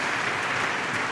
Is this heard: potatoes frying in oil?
no